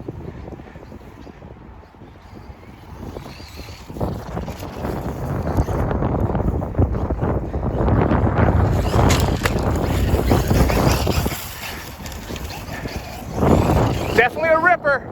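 A Traxxas Maxx 4S electric RC monster truck tears across a construction-site dirt lot, its motor whine and tire roar swelling loudly, with wind buffeting the microphone and a voice talking over it.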